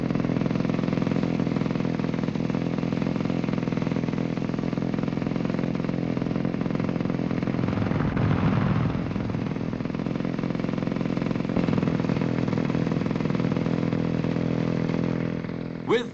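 Motor scooter engines from a 1962 scooter club drone steadily, a continuous mid-pitched hum with a voice talking over it throughout.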